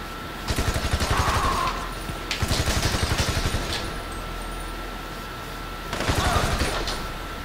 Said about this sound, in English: Shoot that gas canister